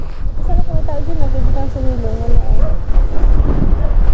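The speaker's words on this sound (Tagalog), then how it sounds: "Lakas ng hangin, hindi kaya ng motor" Strong wind buffets the microphone outdoors on a hillside road in San Nicolas, Pangasinan, a loud low rumble under someone speaking throughout.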